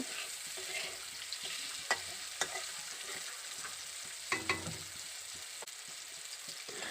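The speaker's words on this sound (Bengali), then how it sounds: "উচ্ছেটাকে আমি ভালো করে ভেজে নিয়েছি" Bitter gourd fries in hot oil with a soft, steady sizzle close by, punctuated by a few distinct scraping clicks of a utensil stirring the pan, and no voices.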